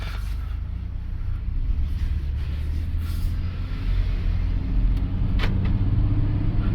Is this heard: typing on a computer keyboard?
no